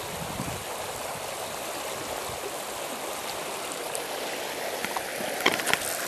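Rapids on the Housatonic River spill into a pool in a steady, full rush of moving water, heard close with no talk over it.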